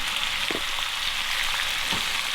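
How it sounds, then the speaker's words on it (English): Bacon sizzles in a pan over an open campfire, a steady close frying hiss with a few soft pops and crackles, no voices. "Good old bacon going in there. It's always a fast cooker."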